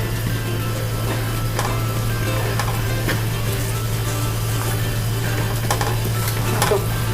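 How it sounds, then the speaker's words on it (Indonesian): Fried shallot and chili sambal is stirred in a large batch in a pan: steady oily sizzling with repeated scraping and stirring strokes over a constant low hum, with no talking. "Aduk pelan-pelan, kita kasih garam ya"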